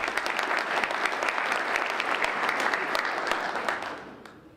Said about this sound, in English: If you'll give him a round of applause